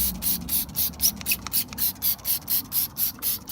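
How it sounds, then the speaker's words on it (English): A cloth rubs back and forth over a faded, oxidized plastic car bumper to clean off dirt, about a dozen quick, even swipes in steady rhythm. The sound is close and clear with no voices. "wiping it down, getting all the dirt off, getting all the imperfections out of there"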